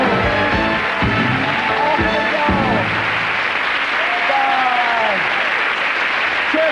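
A television studio audience applauding and cheering as guests leave a 1990s Saturday night comedy show, a loud continuous wash of clapping with some whoops and a few voices heard over it.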